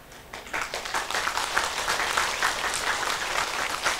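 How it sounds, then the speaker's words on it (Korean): Audience applause at a Sunday Buddhist Dharma service at a Korean temple, a full, steady round of clapping that swells after a quieter start and holds to the end. "빨리 내려가도 박수 치는 것 같네."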